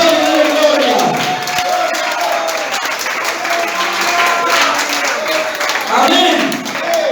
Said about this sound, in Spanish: ¡Aplausos de gloria!